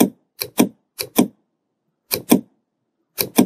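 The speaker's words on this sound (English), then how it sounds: "we press the shift from the keyboard" Sharp, close keyboard clicks arrive in quick pairs with short silent gaps between them, about nine presses in all.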